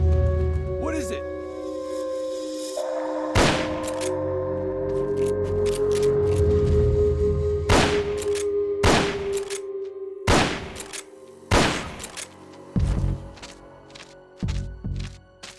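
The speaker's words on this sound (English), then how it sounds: "Shots fired!" Gunfire in Metal Gear Solid: Peace Walker: a series of sharp, loud shots spaced irregularly, some in quick pairs, over a sustained game tone and low rumble, with a voice speaking briefly.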